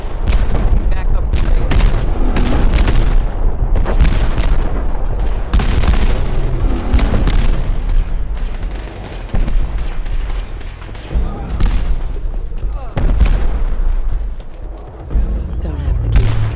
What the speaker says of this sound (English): Going to shoot.